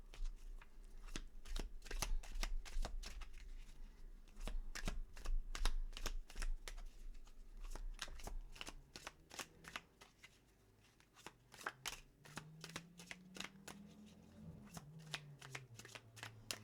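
Tarot cards being shuffled and dealt, giving crisp repeated riffling snaps and slaps close to the mic, with a low hum in the background and no talking.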